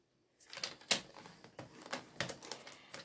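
Card scored at one inch with a scoring tool, a run of close, crisp scraping strokes with short gaps between them.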